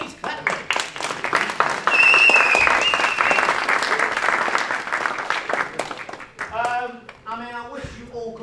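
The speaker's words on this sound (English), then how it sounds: "Please clap me." A lecture audience breaks into applause at the end of a talk on problem analysis and requirements: a sustained patter of many hands clapping, fairly close, tapering off as a voice begins speaking near the end.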